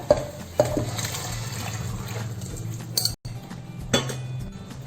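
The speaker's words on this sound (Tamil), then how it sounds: "இப்போது ஊற வச்ச காராமணியை அந்த தண்ணியோடு சேர்த்துக்கோங்க." Soaked black-eyed peas tipped into a pan along with their soaking water for a kurma, giving a few clinks of utensil on metal and a soft watery pour beneath a steady kitchen background.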